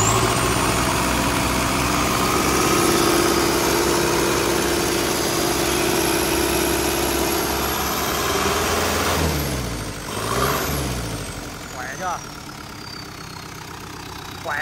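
A Yuchai 4108 diesel engine runs steadily and loud at close range with a rough, throbbing idle, then the throttle is opened and the pitch sweeps up before easing back down to idle.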